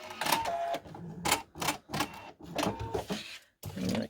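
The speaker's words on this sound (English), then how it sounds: "I'm going to sew right exactly on that line, all the way out into the seam allowance." Sewing machine stitching a seam on a curved geese quilt block, whirring loudly up close in short bursts with brief stops between runs.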